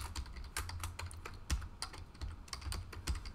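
Quiet, close keystrokes on a computer keyboard as a password is typed in a lab server setup, an irregular run of separate clicks with short pauses and no speech.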